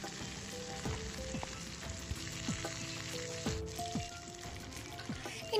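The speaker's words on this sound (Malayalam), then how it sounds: "ഇതിലേക്ക് നാല് പച്ചമുളകും അല്പം കറിവേപ്പിലയും കൂടെ ചേർത്ത് കൊടുക്കാം" Green chillies and curry leaves sizzle and crackle in hot oil for a yam moru curry, a steady low spatter with scattered sharp pops, close and fairly quiet, with no talking.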